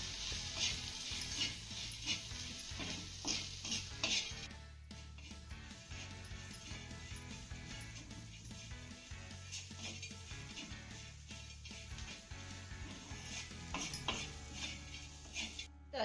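Cluster beans with crushed peanuts are stir-fried in a pan, a continuous sizzle under repeated scraping and clinking of a metal spatula against the pan.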